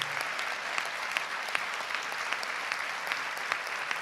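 Steady, loud audience applause at a Podemos political talk, dense clapping from a large crowd filling the hall without pause, no voices over it.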